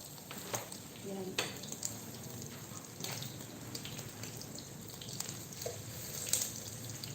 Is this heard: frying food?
yes